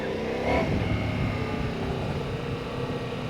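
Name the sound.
Ducati Multistrada V4S motorcycle riding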